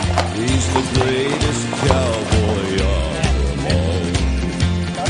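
Horses clip-clop back to the paddock, their hooves striking a steady rhythm under layered background music, fairly loud and near.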